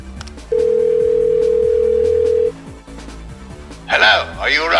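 A telephone dial tone hums steadily for about two seconds during a call being placed, loud and alone, followed by tonal dial or ring beeps and then a burst of breathy, gasping voice sounds.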